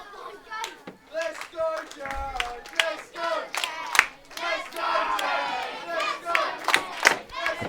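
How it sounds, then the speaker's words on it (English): A live pro wrestling crowd cheers, chants and claps steadily throughout a women's match, loud and dense with rhythmic rallying shouts rising and falling. "The crowd firmly behind Jade, trying to rally"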